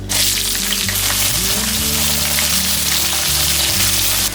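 A large onion goes into hot oil already holding fenugreek, dried red chillies and curry leaves for beef varattiyathu, setting off a loud, continuous close sizzle that holds steady for the whole stretch, with no talking.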